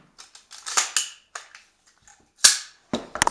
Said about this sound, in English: I'm going to drop this mag out.